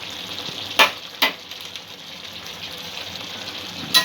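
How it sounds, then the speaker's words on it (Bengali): Chicken curry meat with added curry masala sizzles steadily in a pan, with a few sharp clinks as it is stirred. Close and continuous, with no talking. "ঢাকা দিয়ে কিছুক্ষণ পরপরই 2 মিনিট 3 মিনিট পরই আমি মাংসটা নাড়া দিচ্ছি"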